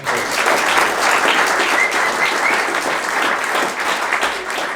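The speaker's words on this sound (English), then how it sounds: "give a big round of applause to TrustSquare for providing us this amazing location" Loud, full applause from a seated audience at a tech community event stays even and continuous throughout the short burst.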